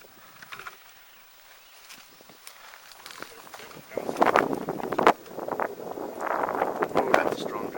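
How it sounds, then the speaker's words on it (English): Gusty wind buffets a microphone outdoors in a canyon, quiet at first and then a loud rushing gust surging for several seconds, with faint footsteps and brief talk. "that's a strong gust of wind"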